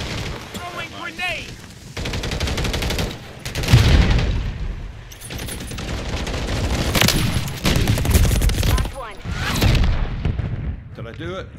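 Rapid bursts of video game gunfire from JAK Wardens weapons, loud and dense with heavy booms layered together, while a player's voice talks over the shooting.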